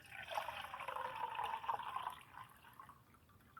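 Water pours into a metal canteen cup outdoors in a Florida swamp, a soft, faint trickling fill that swells and then tapers off over a few seconds.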